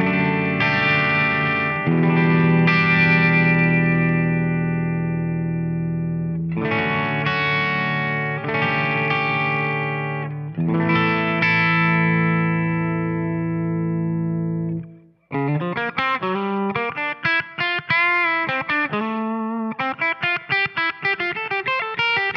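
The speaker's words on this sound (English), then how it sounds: "you can really hear the grain when you pick on this one. And it can make for some cool effects when you're using a lot of gain." An electric guitar picked with a textured pick through a high-gain, distorted amp setting: several long ringing sustained notes and chords, then a quicker passage of picked notes, loud and close with no voices.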